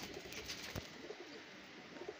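Soft pigeon coos repeat a few times at a low level, with a faint background hum and a brief tap near the start.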